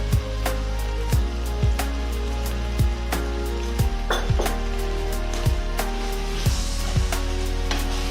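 Cambodian Salor Koko soup simmering in a pot after a splash of water is added, giving a steady low bubbling and faint sizzle with regular soft knocks and clinks from a utensil against the pot, no voices.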